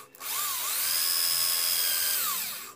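A power drill whines loudly and steadily as it bores into brass for a knife handle scale, rising to a high pitch and holding before winding down, with no voices.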